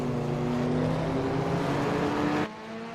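Hyundai Elantra race car engine in a racing video game, a steady droning roar held close and loud for most of the moment, then dropping abruptly to a quieter hum near the end.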